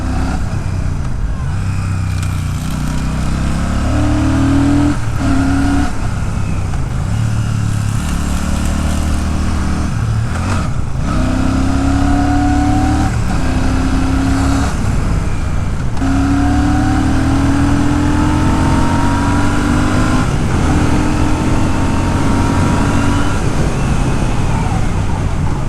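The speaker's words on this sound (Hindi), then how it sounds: "देखा टायर से साउंड क्या खतरनाक निकलते हैं" Royal Enfield Shotgun 650 motorcycle riding along, a loud continuous engine drone with rising and falling gear tones and steady tyre roar on the road, no talk over it.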